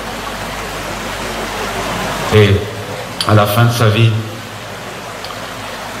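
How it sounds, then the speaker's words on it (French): Small stream flowing beneath the narrow three-arched Saint-Lambert stone bridge, on its way to the Semois: a steady broadband water rush that continues throughout, briefly overlaid by someone speaking in the middle. "sur ce petit ruisseau qui va se jeter dans la Semois."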